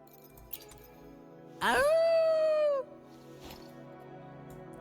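A costumed person lets out a single sustained wolf-like howl lasting about a second, loud and close, a human voice imitating a wolf amid quiet background.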